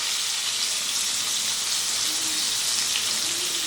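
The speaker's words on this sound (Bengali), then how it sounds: "এবারে এই তেলের মধ্যেই দিয়ে দিচ্ছি সিদ্ধ করে রাখা ইঁচড়টা।" Boiled green jackfruit pieces frying lightly in hot oil, a steady broadband sizzle with soft crackle throughout, close and even with no talking.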